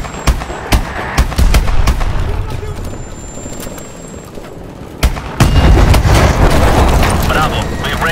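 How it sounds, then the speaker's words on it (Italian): Explosions and gunfire in the video game Call of Duty Advanced Warfare, with sharp repeated shots in the first seconds, then a heavy booming blast and loud rumbling under voices. "Esplosioni! Sta saltando in aria!"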